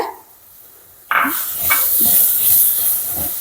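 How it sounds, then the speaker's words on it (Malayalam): Tomatoes hit hot frying masala in a pan with a sudden loud sizzle that keeps hissing steadily, broken by faint stirring scrapes. "ഇനി നമുക്ക് ഇതിലോട്ട് തക്കാളി ഇട്ട് കൊടുക്കാം കേട്ടോ"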